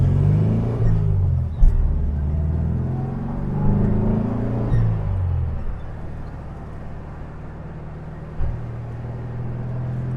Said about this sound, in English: I think the more generous exhaust gets rid of the typical Beetle chirp which these cars made.